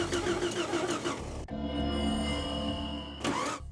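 Jeep Grand Cherokee engine cranking and failing to catch, out in the woods: a steady starter churn runs the length of the clip with a sharp shift partway through, loud and close, with no voices.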